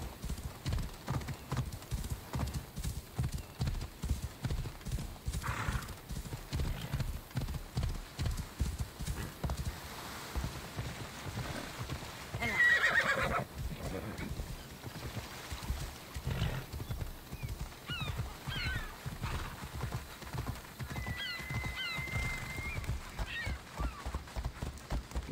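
Horse hooves clip-clop steadily at a gallop in Assassin's Creed Odyssey, moving along the coast of Kefalonia, with a few short whinnies rising above the rhythmic pounding and a brief burst of game sound midway.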